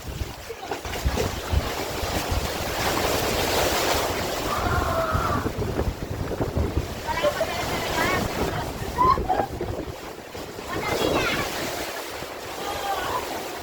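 Strong sea waves surging at Butas Butas beach in Mauban, Quezon, a loud continuous roar with wind buffeting the microphone, while people talk and exclaim over it.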